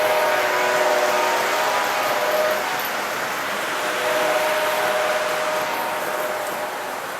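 An HO-scale model train runs on a home layout beneath a snow village, giving a steady mechanical whir and hum with faint tonal whine, fairly close and continuous.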